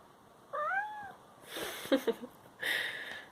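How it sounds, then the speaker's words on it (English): A pet cat sitting on a shelf gives one clear, rising-falling meow close by, followed by soft rustles and small clicks and a short noisy burst at the end. "My kitty cat is sitting up here on the shelf."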